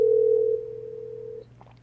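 A telephone dial tone plays while a call is being placed, a steady loud continuous tone that drops slightly in level partway through and cuts off near the end, followed by faint clicks.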